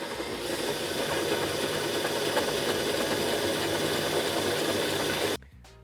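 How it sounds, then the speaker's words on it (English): A hole saw cuts a clearance hole through a BMW M4 F82 boot lid for a G82 rear wing retrofit, a steady, loud whirring grind that runs unbroken before stopping abruptly near the end. "So I'm just part way through drilling this first clearance hole here"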